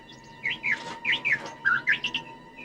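A bird chirps in a quick run of sharp, bright tweets, about a dozen short calls in a lively burst over a faint background hum.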